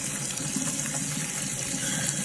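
Water runs steadily from a tap for a shower, a constant close gushing hiss without pauses or talk.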